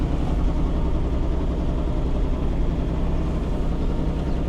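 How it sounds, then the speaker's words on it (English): A car engine idles at low, quiet revs, a steady close rumble that runs unbroken throughout with no other sounds on top. "Sounds like it's going to cut out, but it just, the revs really are so quiet."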